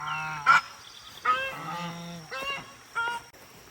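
Farm geese honk in several separate, nasal calls spaced a second or so apart, fairly close and clear against a quiet background with no talking.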